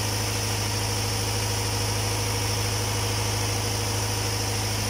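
An engine idling steadily, a constant loud mechanical hum with a low throbbing pulse and some vibration, unchanging throughout and with no talk.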